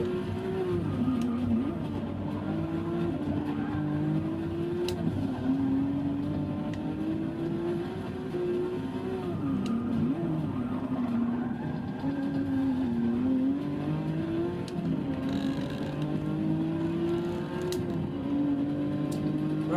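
Porsche race car engine in Forza 6 at Monza, a steady loud drone with rising and falling pitch as the car shifts and takes corners, continuous for the whole stretch with no talk.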